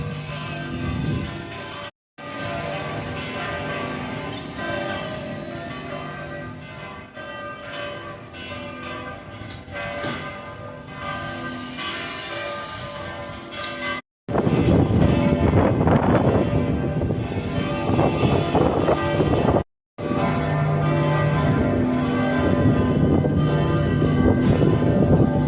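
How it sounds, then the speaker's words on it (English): Oslo Cathedral's church bells ring continuously and loudly, overlapping peals clanging together, with wind rumbling in the microphone. "Oslo Cathedral, which luckily, at this time, was ringing its bells"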